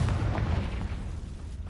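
A Confringo spell explodes in Hogwarts Legacy with a short, heavy, low boom that rumbles loudly and close, then tails off within under two seconds.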